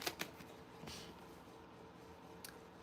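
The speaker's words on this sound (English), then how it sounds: "let's shuffle the cards and see" A deck of tarot cards being shuffled: a couple of quick, crisp riffling snaps at the start, then a softer papery burst and a final brief flutter, all faint and close against a quiet indoor room.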